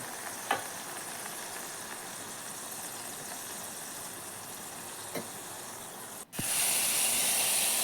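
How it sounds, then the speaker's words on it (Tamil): Food being sautéed with rock salt in a pan gives a steady, close hiss of sizzling with two light taps, swelling louder and brighter near the end. "இப்போ இது கூடவே கல்லுப்பு கொஞ்சம் சேர்த்து நல்லா கலந்து கொடுங்க தோல் சுருண்டு வதங்கி வரட்டும்"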